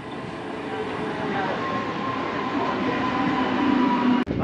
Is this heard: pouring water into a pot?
no